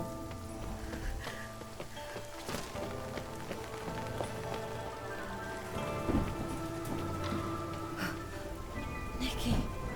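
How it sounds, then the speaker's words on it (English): Rain falling in the video game Infinity Nikki, a soft continuous patter of drops with scattered louder splashes, heard faintly beneath game music and effects while voices speak. "Oh, it's raining."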